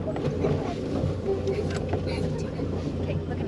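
Boat motor running in reverse as it backs away from a sunken boat, a steady low engine drone throughout, with people talking over it.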